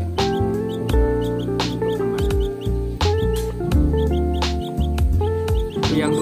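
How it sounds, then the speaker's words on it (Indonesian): Hill myna (Nias myna) chicks call close up in a rapid, repeated series of shrill chirps and squawks that continue without pause throughout. "Ini anakan jalak kita"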